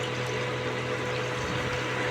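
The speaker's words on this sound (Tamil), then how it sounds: "குழம்புக்கு தேவையான அளவு தண்ணி ஊற்றிடலாங்க" Water poured into a pot of curry in a home kitchen, a steady continuous rushing pour with a faint low hum beneath, no talk.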